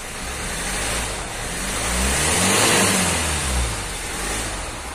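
Hyundai Santa Fe diesel engine revving while smoking heavily and running rough, a loud, steady mid-pitched drone that swells and eases through repeated throttle pulls, with no talking.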